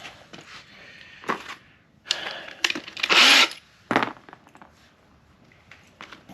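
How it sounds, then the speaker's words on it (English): Power drill boring through the plastic fairing of a Honda CBR600RR for rivnut installation, heard as several short, close whirring bursts with pauses between, the longest and loudest in the middle. "we're gonna drill"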